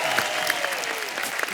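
A studio audience at a comedy show applauds to welcome a singer on stage, dense continuous clapping filling the short moment, loud and close with scattered sharper claps.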